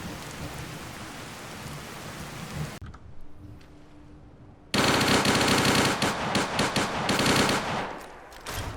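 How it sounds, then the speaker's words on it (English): A chain gun minigun fires in Fallout 4 as dense, rapid, roaring bursts, then a short quiet gap, then a louder sustained stream of gunfire to the end. "the chain gun shoots while it's winding up, although it has a slower wind up"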